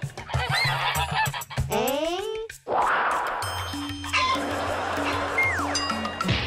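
A person imitates a hen with loud, repeated squawking clucks during a TV charades-style guessing game, the comic calls rising and falling in bursts while other voices chime in around them.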